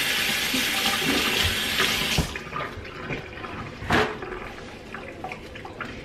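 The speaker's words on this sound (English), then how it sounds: "Rinse my hands." Tap water runs steadily over hands being rinsed while preparing pico de gallo with cilantro, a broad close splash for about two seconds, then stopping, leaving a few faint drips and small kitchen clatters.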